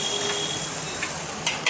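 Butter melting in a hot pan gives a steady, soft sizzle throughout, broken near the end by two sharp clinks of a utensil against the pan, with no talking.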